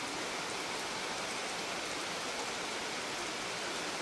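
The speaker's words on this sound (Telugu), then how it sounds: "ఎందుకంటే వర్షం పడుతుంది కదా" Steady rain pours down outdoors in a broad, even hiss with no break, fairly loud and close, with no voices over it.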